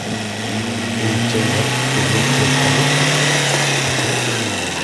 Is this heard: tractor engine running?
yes